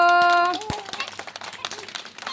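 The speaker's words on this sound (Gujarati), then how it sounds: "ચાલો બધાય પોતપોતાની તાળી પાડો." Children clap along to a sung rhyme, a brief voice giving way to scattered, uneven hand claps from a small group, close and fairly loud.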